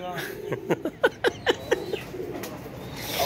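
A pigeon coos repeatedly in a quick series of rounded, throaty calls, close by, with faint background talk and ambient noise around it.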